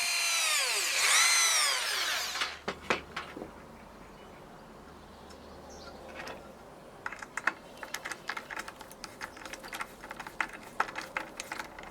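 A power drill whines loudly for about two seconds as it drives a screw into the top of a wooden garden line marker's boom shaft. Quieter sharp clicks and taps follow in a quiet room.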